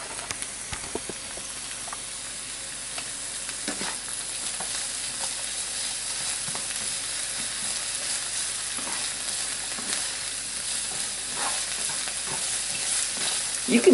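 Swiss chard, garlic, American cheese and eggs cook together in a pan for a low-carb breakfast, giving a steady close sizzle and hiss with occasional stirring scrapes, no voices.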